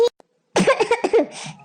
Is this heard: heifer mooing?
no